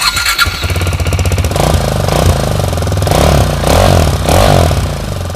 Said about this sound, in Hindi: पहले स्टॉक का साउंड सुनो,